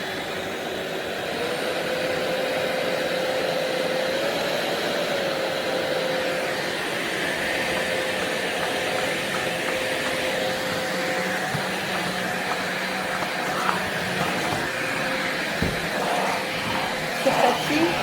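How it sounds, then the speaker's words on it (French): A Philips 8000 Series cordless pet vacuum cleaner runs on a carpet, a steady loud motor whine with brush noise holding throughout, with occasional soft knocks near the end. "L'aspirateur sur les tapis, il adapte sa puissance tout seul."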